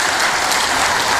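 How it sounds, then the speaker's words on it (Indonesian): Applause from an audience at an Indonesian public event honouring a West Java governor, a dense, steady patter of many hands clapping loudly throughout, with no voices over it. "Tepuk tangan buat Kang Deddy Mulyadi"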